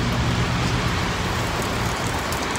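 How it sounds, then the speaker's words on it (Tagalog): Heavy rain pours down in a loud, constant hiss and patter, dense and unbroken with no voices. "Sobrang lakas ng ulan."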